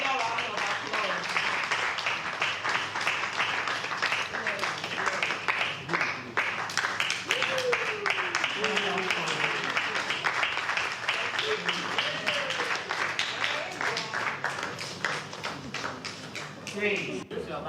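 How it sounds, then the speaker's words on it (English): Sustained applause from a conference audience in a lecture hall, dense steady clapping running the whole stretch at an even loudness, with a voice speaking over it at times. "Give a bigger round of applause"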